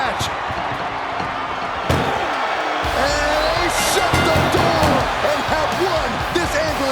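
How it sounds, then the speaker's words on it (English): Ambulance door slams shut during an ambulance match in the WWE 2K24 wrestling video game, one sharp bang followed by loud crowd noise and a commentator's voice. "And they shut the door."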